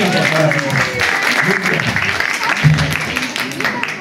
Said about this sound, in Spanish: ¡Un aplauso para mis lectores!